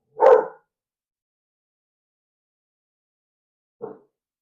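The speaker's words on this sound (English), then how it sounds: "No barking you." A dog barks indoors near a window as another dog walks past outside: one sharp, fairly loud bark, then a long silence and a second, softer short bark.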